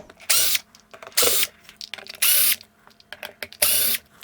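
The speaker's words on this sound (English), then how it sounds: "Step 1 is simply laying the amp on its face and removing the 4 screws that hold on the back plate." Four screws come out of a guitar amp's back plate with a tool, heard as four evenly spaced bursts of harsh ratcheting whir, close and fairly loud.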